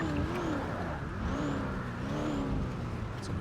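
A car engine in the NoPixel role-play video game hums and revs steadily at moderate distance, its pitch rising and falling slightly over a constant mechanical drone.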